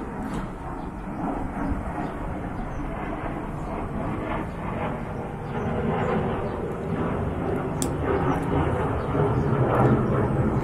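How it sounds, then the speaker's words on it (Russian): A small airplane flies over outdoors, a steady droning engine hum that grows slightly louder toward the end beneath broadband background noise. "Это самолетик пролетел."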